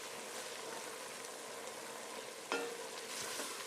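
Vegetables sizzle in a hot pan after deglazing with alcohol, a steady dense frying hiss, broken by a sharp scrape of a utensil against the pan as they are stirred.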